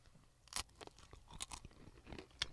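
Crunchy homemade crackers topped with blue cheese are chewed close up, giving a few sharp, separate crunching bites spaced over a quiet background with no talking.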